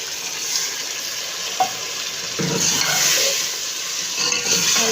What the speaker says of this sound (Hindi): अब इसके अंदर मैं डालने लगी हूँ दही और थोड़ा सा इसके अंदर हम पानी डाल देंगे